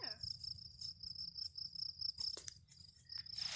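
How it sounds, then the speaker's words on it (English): Crickets chirp steadily in a high, continuous trill, with a soft low rumble underneath and a few brief rustles. "The crickets are still chirping."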